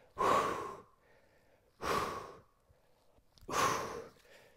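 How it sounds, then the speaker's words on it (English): Three strong, breathy exhalations, evenly spaced about every 1.7 seconds, from a person doing rear delt flys with a circular resistance band. Each breath is close, forceful and clear, with quiet pauses in between. "Breathing out as I squeeze back."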